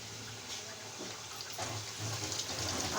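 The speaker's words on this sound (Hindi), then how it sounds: "अगर मैं हाथ धो लूँ," Tap water running steadily into a sink while hands are washed in a home kitchen, a constant close rushing that gets slightly louder toward the end.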